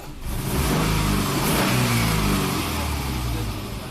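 A Subaru engine with a high idle fault revs up strongly and holds an elevated, steady growl close to the microphone before easing slightly as the accelerator is released.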